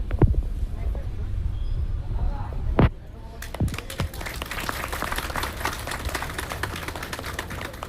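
Applause welcoming guests at a foundation-stone ceremony for a Raigar dharamshala in Haridwar, a scattered crowd clapping with distinct individual claps, following a stretch of loud talk over a microphone.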